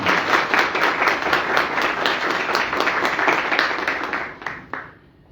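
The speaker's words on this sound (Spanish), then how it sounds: "Entonces yo arrancaría porque le den un aplauso a Mariela." An audience applauding Mariela at a business community event, dense clapping that holds steady for about four seconds and then tapers off to near silence.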